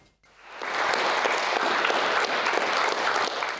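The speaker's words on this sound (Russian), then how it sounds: "Он выходит под аплодисменты" A crowd greets boxer Alexander Sarnavsky, nicknamed "Tiger", with applause that rises from near silence within the first half-second and then holds as a dense, moderately distant roar of clapping.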